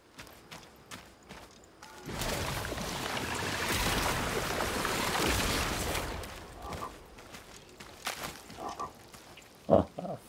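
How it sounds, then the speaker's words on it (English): Frog croaking in the video game Blacktail: a dense, steady chorus of croaks swells for a few seconds in the middle, surrounded by quieter clicks and game sounds, with little talking. "Frog"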